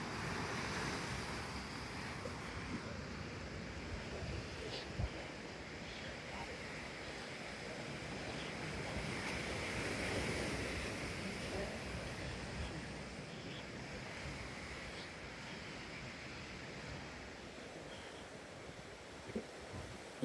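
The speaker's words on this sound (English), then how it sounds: "One of my favourite beaches in the area." Waves break on a beach in Khao Lak, Thailand, a faint, steady wash of surf mixed with light wind noise, with soft surges and occasional small bumps nearby.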